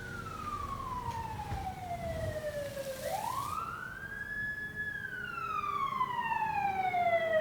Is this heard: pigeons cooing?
no